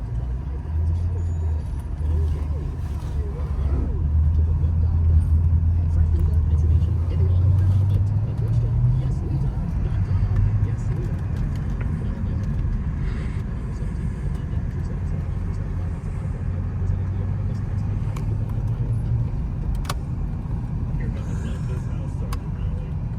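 A 2010 Porsche Panamera 4S pulling away and cruising, heard from inside the cabin as a steady, close, low engine and road rumble with brief swells in pitch as it accelerates, with no talking.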